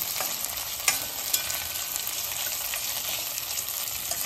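Capsicum and cabbage stir-frying in a pan for fried rice, a continuous loud sizzle with a couple of sharp spatula knocks, no talking.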